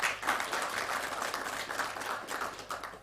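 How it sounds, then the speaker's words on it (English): Warm round of applause from an audience at a high-level tourism roadshow in Johannesburg, a continuous patter of clapping hands at moderate loudness, heard alone for a few seconds. "I would like us to please give him another warm round of applause."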